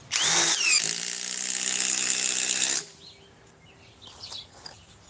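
Ryobi cordless impact driver runs loud and close for nearly three seconds, a high whirring burst with a pitch sweep at the start, then cuts off into quiet room noise.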